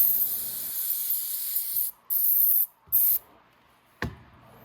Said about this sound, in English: So now I'll clean off this diaphragm. Oh. Again, a little bit of carb cleaner.